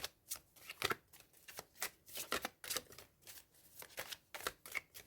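Tarot cards shuffled by hand, a close, crisp series of rapid riffling bursts in an uneven rhythm, about a dozen quick flurries separated by short pauses, alone without any talking.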